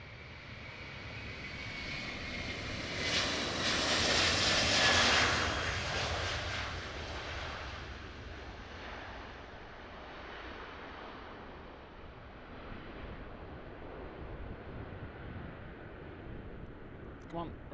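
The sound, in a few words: jet airplane taking off at Amsterdam Airport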